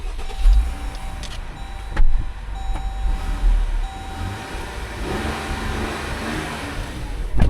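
A Jeep engine runs at an auction lot with a few quick revs rising over a rumbling idle, heard close and fairly loud with no talking.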